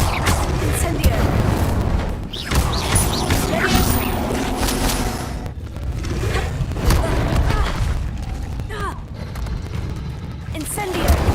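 Incendio fire spells cast repeatedly in the Hogwarts Legacy game, a series of booming whooshing bursts and crashing impacts with dense low rumble across several seconds, mixed with a voice shouting between casts.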